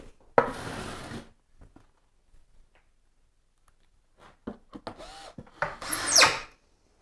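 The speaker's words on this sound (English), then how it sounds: "First of all, as before, get those screws in." Power drill drives screws into a wooden mould for a concrete sink in short whirring bursts, with a brief spin early on and several quick pulses near the end, separated by quiet gaps.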